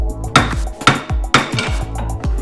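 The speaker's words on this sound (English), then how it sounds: "the wheel hub should just come out after we bang on it a little bit" Loud metallic hammer blows strike a wheel hub on a side-by-side's axle repeatedly at a steady pace, each ringing briefly, about four or five hits close by.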